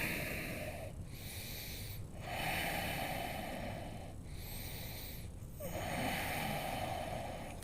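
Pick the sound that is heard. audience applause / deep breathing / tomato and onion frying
deep breathing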